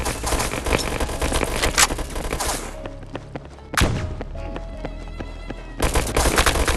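Gunfire in the mobile first-person shooter Gunfight King: loud, dense automatic bursts, then a sparser stretch with single thuds and game tones, a sudden sharp blast, and another heavy barrage at the close.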